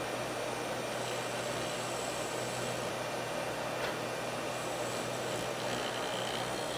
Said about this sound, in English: I do have the cam vac running, so if it's a little noisy, I apologize